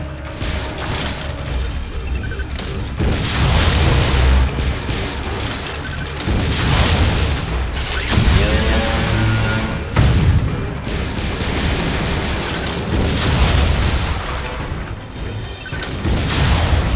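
Missile explosions from the video game Metroid: Other M hit in a heavy barrage of deep booms and crashing bursts, loud and nearly continuous, with mechanical clanks rising between the blasts.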